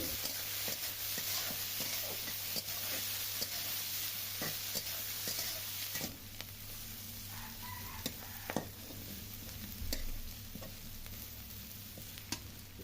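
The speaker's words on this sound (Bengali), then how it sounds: "এই রসুন ঝাল আর পেঁয়াজ এগুলো একসঙ্গে খুব সুন্দরভাবে নাড়াচাড়া করতে হবে" Garlic, chili and onion stirred in a hot pan, with a low steady sizzle under repeated scraping and clinking strokes of a spoon, moderately close and quiet, and no talking.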